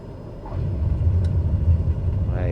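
A small aircraft engine idles low on the landing rollout at KSNA, a steady rumbling drone with faint cockpit noise and no talk.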